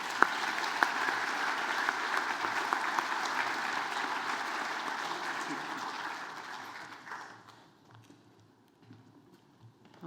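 An audience welcomes a guest lecturer with sustained applause, a broad, busy clatter of many hands that keeps going for about seven seconds before dying away into a quiet room with scattered small sounds.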